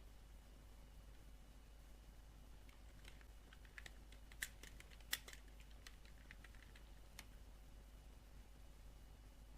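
Soft typing on a computer keyboard: a burst of light, irregular key clicks rises briefly and then stops, quiet and close, against a steady low hum.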